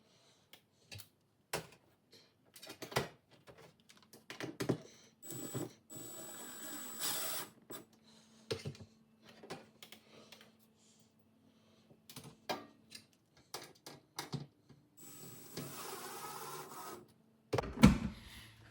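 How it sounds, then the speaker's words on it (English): Screws being driven into a light fixture mounting bracket while replacing a fluorescent troffer, a series of faint, irregular clicks, ticks and short grinding bursts with quiet gaps between them. "we'll go ahead and screw in each of those screws"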